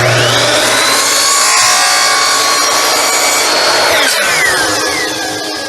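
Wood being shaved to true a 45-degree miter on a fence picket board for a wine serving tray, a steady loud rasping power-tool grind that runs continuously and tapers off slightly at the end.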